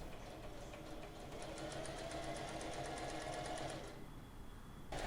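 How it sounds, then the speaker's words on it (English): A sewing machine stitches along the seams of a pair of pants, running in a fast, steady, even rhythm for about four seconds, then stopping, with a brief restart at the end. "Sew along the original stitches of the pant if you want to keep the fade details."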